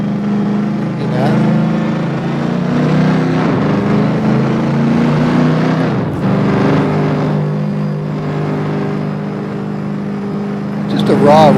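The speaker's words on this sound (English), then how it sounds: "Just a raw race car here. It's nothing but raw race car." A raw race car engine idles steadily with a low, constant drone and slight pitch wavering, close and loud throughout.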